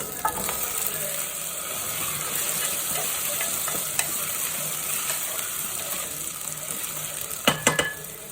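Potatoes are stirred into a frying pan with ginger garlic paste, giving a steady low sizzle with soft scraping and a few clinks of a utensil near the end.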